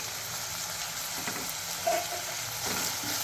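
Ginger garlic paste sizzles and fries steadily in a pan for chicken curry, with soft stirring scrapes now and then; a continuous, close hiss with no talking.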